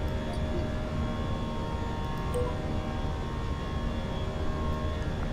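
Airliner engines roaring steadily during a takeoff roll in MSFS 2024, a loud continuous jet drone with a faint tonal whine, with no voices.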